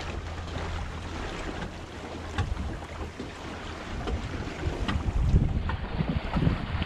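A ferry approaches across a creek, heard from a small sailing dinghy as a low, steady rumble under water slosh and light wind noise, growing somewhat louder toward the end, with no talk.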